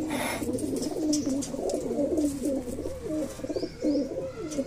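Gwalior pigeons coo in a close, continuous run of low, throaty warbling calls, with no talking over them.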